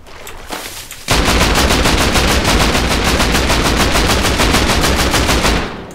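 Sustained rapid automatic gunfire from the survival game Rust, loud and close, with evenly spaced shots ringing out continuously for several seconds after a brief quieter lead-in.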